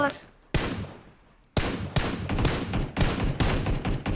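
Gunfire in a battle royale video game: sharp, close shots crack out one after another, first two spaced reports and then a quicker run of about six blasts.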